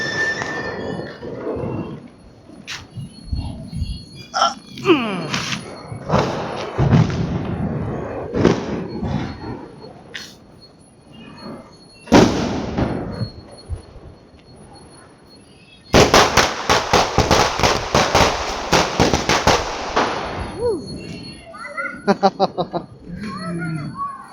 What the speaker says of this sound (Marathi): तुमचा भाऊ फोडतोय फटाके.